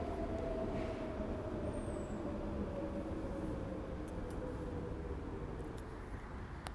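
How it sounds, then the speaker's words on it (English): A train passing as a steady low rumble and rolling hum throughout, with a faint squeal, continuous and moderately distant, with no talk. "I can't stop the train sounds."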